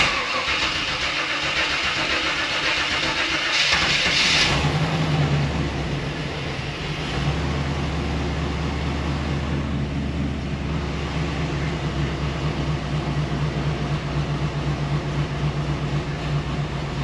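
An engine in a garage cranks and catches, then settles into a loud, steady idle with a low droning hum that carries on throughout, with no speech over it.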